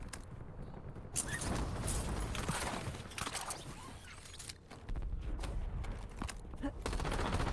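Gunshots in Call of Duty Warzone, with dense bursts of automatic rifle fire that cut out briefly and come back, loud and close over a noisy backdrop of game sound, with some faint speech mixed in.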